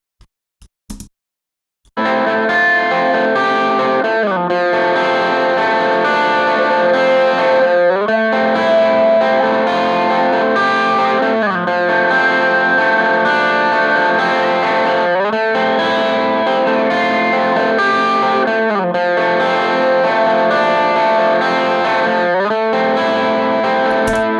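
A continuous, heavily driven electric guitar part plays as a narrow EQ band sweeps through it, with a thick, buzzing tone and recurring strums across about twenty seconds after a few faint clicks at the start.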